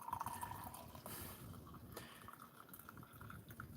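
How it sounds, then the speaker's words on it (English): Coffee being made, with liquid pouring into a cup in a steady, close, continuous wash of trickling water, no voices present. "I'm making my coffee."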